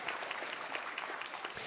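Audience applause at a memorial celebration event, a dense steady patter of many hands clapping throughout, moderately loud and unbroken.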